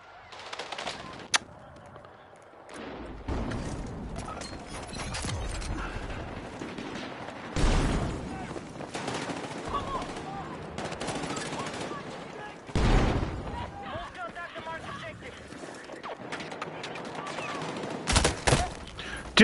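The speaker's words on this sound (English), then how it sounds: "I just shot a dude in the face with a shotgun" Gunfire in the Battlefield 6 video game, including shotgun blasts. Several loud, sharp bursts are spread through the clip over continuous battle noise, with a rapid cluster near the end.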